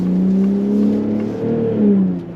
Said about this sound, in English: let you see the acceleration of this truck. 450 horsepower, nothing to laugh at